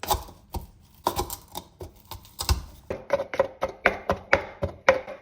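Garlic cloves, hot chili pepper and salt pounded with lemon juice in a mortar for daqqa, a series of sharp, close percussive thuds, irregular at first and then a steady rhythmic pounding, with no talking.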